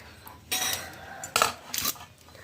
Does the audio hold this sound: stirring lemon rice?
yes